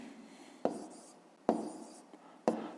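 A pen writing numbers during a fifth-grade math exercise, heard as three sharp scratchy strokes spaced about a second apart. Each stroke starts with a crisp attack and fades into a faint papery hiss, close and quiet, with no talking.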